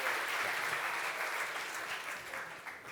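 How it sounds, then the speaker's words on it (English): An energetic round of applause from the audience at a tech talk, dense continuous clapping that holds steady, then eases slightly toward the end. "I request you a pretty energetic round of applause"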